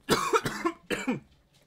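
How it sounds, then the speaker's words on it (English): A person coughs hard several times in quick succession, three close, loud bursts with short gaps between them, then a faint trailing sound. "I just needed to cough a lot right there."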